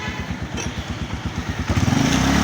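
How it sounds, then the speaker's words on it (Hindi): Restored Suzuki GD110 motorcycle engine idling close by after a half-kick start, a steady low thudding pulse that quickens slightly as the revs rise near the end. "सर आप लोगों के सामने हाफ किक पे एक तरह से स्टार्ट हो गई है"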